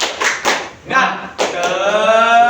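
A classroom of students performs the Indonesian tepuk semangat, a patterned rhythmic clapping chant. Several bursts of group clapping come close and loud, with voices chanting along near the end.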